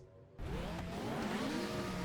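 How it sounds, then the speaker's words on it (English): Touring car engines in the GTR 2 racing game rev up at the start of a 1994 BTCC round at Brands Hatch GP, a sudden loud roar of several cars rising in pitch together after a quiet moment. "the revs will be rising, and round 11 is underway"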